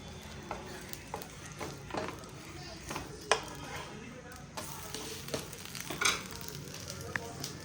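Dosa roasting on a covered pan over a full gas flame, giving a steady close sizzle with occasional soft crackles and light clinks throughout.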